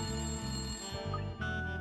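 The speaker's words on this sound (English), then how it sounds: "That's the phone." A telephone rings in the video game Layton Brothers Mystery Room, a loud continuous electronic trill pulsing in quick repeated bursts with a short gap, no voices over it.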